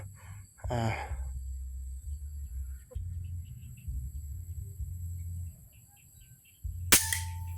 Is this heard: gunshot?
yes